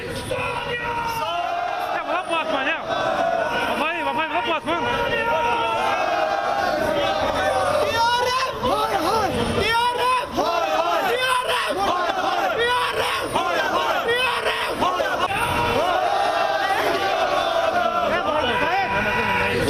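Protest crowd in Srinagar chanting slogans against Pakistan during a march, a dense, continuous roar of many voices shouting in rhythmic waves throughout, loud and close.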